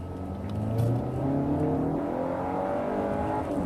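A Range Rover Evoque with a 2.0-litre turbocharged four-cylinder engine accelerates from a rolling start, its steady rising drone and turbo whir heard from inside the car, moderately loud with a slowly climbing pitch.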